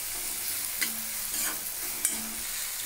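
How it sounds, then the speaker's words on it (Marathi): Chopped onions with ginger-garlic paste fry quietly in a pan under a soft continuous hiss, broken every second or so by brief scraping stirs of a spoon. "आता हे छान फ्राय करून घेऊया आपण"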